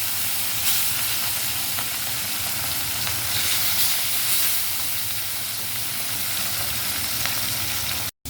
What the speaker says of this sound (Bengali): এবার মাছগুলো গরম তেলে দিয়ে দেব।